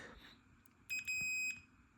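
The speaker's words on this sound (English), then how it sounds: "now I have my continuity tester. Hopefully the beep is audible." A continuity tester held to a metal screwdriver gives a clean, high electronic beep, a short tone followed by a slightly longer one that together last well under a second, set against a quiet room with faint background hiss.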